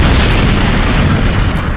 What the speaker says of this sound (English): Kid Buu? Throws a large ki blast.